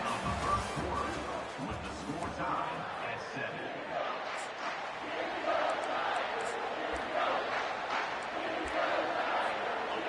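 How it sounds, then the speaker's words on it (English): A college football stadium crowd in a video game roars and yells continuously, a dense wall of cheering that rises and falls slightly throughout. "they are on their feet, yelling, screaming."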